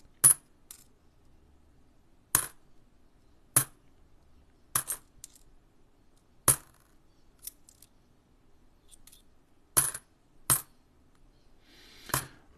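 Sharp metallic clicks of 10-cent coins being dropped and handled, about ten isolated clinks spaced irregularly over quiet background.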